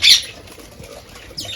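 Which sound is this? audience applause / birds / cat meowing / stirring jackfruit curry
birds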